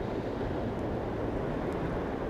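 Ocean surf roars steadily where Gazos Creek empties into the sea, a dense, constant wash of breaking waves with wind noise and no voices.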